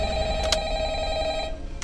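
A telephone in the Five Nights at Freddy's video game rings loudly and steadily with a bright, continuous electronic trill, heard alone without talk.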